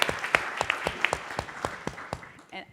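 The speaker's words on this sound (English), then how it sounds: "I think we all wanted to clap after all three of those answers" Small audience at a women-in-tech career session clapping sparsely, a handful of distinct, close claps thinning out over a few seconds.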